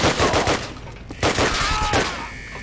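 Gunfire from the video game Call of Duty: United Offensive rattles out in loud, close bursts of rapid shots, with a brief pause between two volleys.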